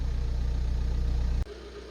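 A 2008 Ford Mondeo Mk4 1.8 TDCi diesel engine, warmed up to temperature, idles with a steady low rumble close by, then cuts off abruptly partway through, leaving a faint hum.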